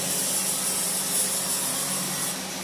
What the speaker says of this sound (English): So grinder,